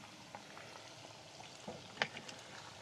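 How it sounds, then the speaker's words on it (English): Pork carnitas fry steadily in a pan with a close, even sizzle, while a few light scrapes and clicks of stirring come through, the sharpest near the middle. "You wanna stir it to make sure everything is getting good and crispy."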